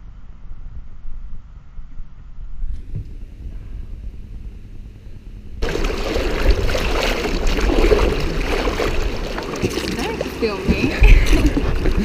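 A kayak paddles through choppy waves in the Whitsundays, with water sloshing quietly at first. Loud, continuous splashing and surf follow, and voices are heard over it.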